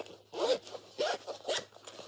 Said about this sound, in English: strap in, zip it up, and you're good to go